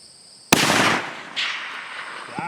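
A single sharp rifle shot from a Christensen Arms 300 PRC during a groundhog hunt, loud and close, with a sudden crack followed by a rolling echo that decays over the next two seconds.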